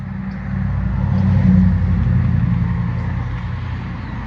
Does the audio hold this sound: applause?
no